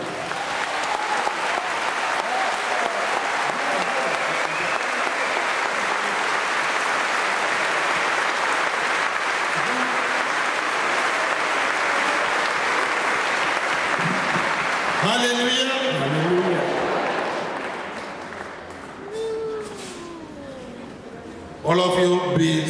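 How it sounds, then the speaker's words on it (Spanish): A congregation claps together during a church service, a dense sustained wash of applause for about fifteen seconds that then thins out as voices and singing or speech come through over the fading claps. "Let us lift up the hands and clap the hands"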